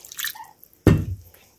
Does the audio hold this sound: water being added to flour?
yes